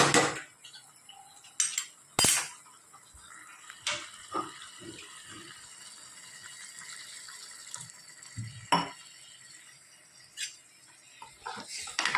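Kitchen sounds while moong is being cooked: a few sharp clinks of utensils and a pot, with soft splashes and brief pours of water, close by and moderately quiet, no voices.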